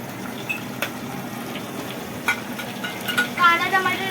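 Green chillies crackling in hot oil with cumin seeds for dal tadka, a steady soft sizzle with small pops and stirring clinks, and a voice briefly heard toward the end.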